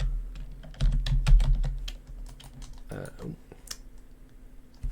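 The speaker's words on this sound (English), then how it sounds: "Type that into chat" Typing on a computer keyboard into a game chat: a quick run of clattering key presses, loudest early on, then scattered lighter taps, with a brief spoken exclamation in between.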